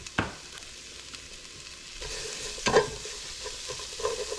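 Vegetables and onions sautéing in butter in a pan, a steady close sizzle with a few stirring scrapes and knocks of a utensil.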